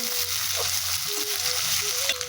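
Ginger frying in hot oil, a dense continuous sizzle with scattered spattering pops, moderately loud and steady, alongside faint tonal hum from the kitchen.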